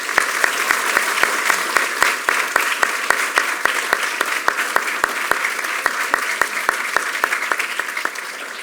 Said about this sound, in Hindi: स्वागत में बहुत सी तालियाँ बजाएं